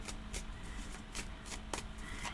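Tarot cards are riffled and shuffled in quick repeated bursts, a soft papery flutter close to the microphone over a quiet background, with no voices.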